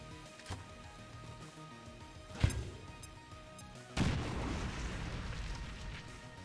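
A single grenade explosion in a modded tactical video game, a sharp boom followed moments later by a second heavy blast with a rumbling, crackling tail over low background ambience.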